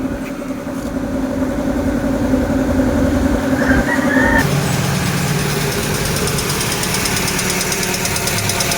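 A Kia Rio engine idles at about 1,000 RPM after a timing belt repair, a steady close mechanical hum with a faint knocking beat that runs throughout, growing slightly rougher midway.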